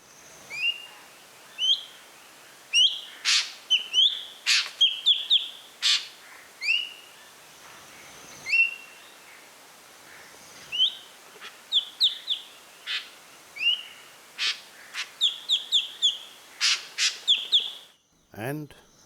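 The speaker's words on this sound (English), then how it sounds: "here's a couple of different variations of sounds of the Ashy Drongo" Ashy Drongo calling in Thailand: sharp chirps and whistled, ringing notes in irregular bursts, clear against a quiet background, growing busier toward the end.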